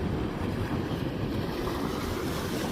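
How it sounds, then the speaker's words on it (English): Ocean wave rolling through a river mouth and eroding a sandbank: steady broadband wash and surf roar, with wind buffeting the microphone, continuous and loud throughout with no talk. "Another wave coming through."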